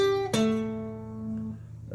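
Electric guitar playing the main riff of a song: a sustained note is struck again and rings out, decaying slowly over about a second, close and moderately loud.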